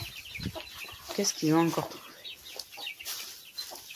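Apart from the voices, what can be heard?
chicks and hens clucking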